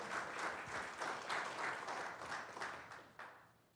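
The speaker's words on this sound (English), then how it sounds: "Let's give her a great big round of applause before we get started." Applause from an audience at a county board meeting, a steady wash of many hands clapping, fairly faint and fading slightly toward the end.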